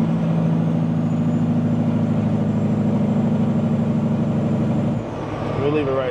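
A truck with an 18-speed transmission coasts down after the throttle is released. Its engine holds a loud, steady low drone, then shifts abruptly to a lower, rougher note near the end.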